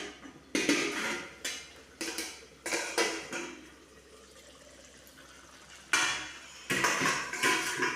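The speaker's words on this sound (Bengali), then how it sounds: "এবার আমি আলুর দমটাকে থালা দিয়ে চাপা দেবো" A metal plate is set over a simmering pot of aloo dum, giving close clinks, clatters and scraping knocks in irregular bursts, with a quieter stretch in the middle.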